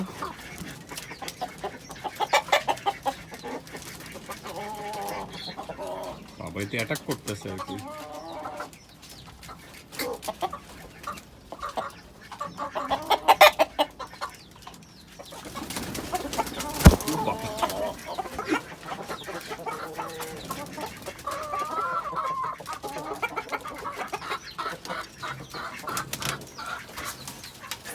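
Chickens cluck and squawk continuously nearby on a rooftop, with occasional wing flaps and a sharp squawk midway, while someone speaks briefly over the birds.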